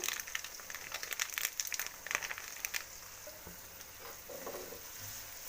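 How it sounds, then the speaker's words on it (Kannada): Puliyogare mix with two packets of MTR powder fries in a little oil, giving a steady soft sizzle with brief scraping stirs in the first half, then a quieter hiss. "ಸ್ವಲ್ಪ ಎಣ್ಣೆಲಿ ಫ್ರೈ ಆದರೆ ಸಾಕು ಇದು."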